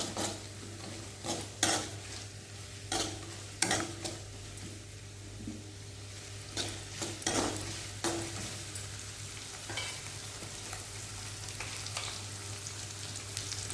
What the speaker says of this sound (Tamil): வெங்காயம் வந்து கொஞ்சம் நேரம் வதங்கினா போதும். நம்ம பீட்ரூட் வந்து சேர்த்துக்கலாம்.